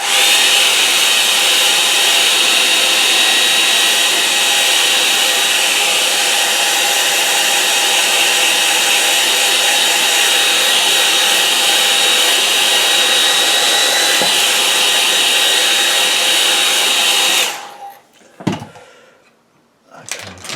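A hair dryer blows over a watercolour painting, a loud, steady roaring hiss that runs unbroken for about seventeen seconds, then cuts off and leaves a few bumps and handling knocks.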